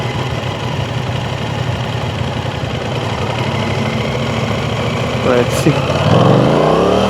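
An Aprilia Tuono 660 twin-cylinder motorcycle engine idles with a steady, throbbing hum, then revs up sharply near the end with a rising growl, close by, while a rider speaks briefly over it.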